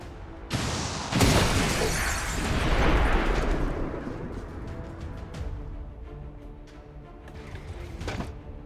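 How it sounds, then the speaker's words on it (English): A rocket fired by a soldier in XCOM 2 roars off and bursts into a loud, crackling explosion, followed by rumbling debris that slowly fades away. "Rockets away!"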